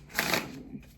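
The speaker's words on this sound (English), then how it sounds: "You saw me shuffling." A numerology and astrology card deck being shuffled by hand, a dense riffling burst that swells early, then a softer rustle trailing off within about a second, close and alone.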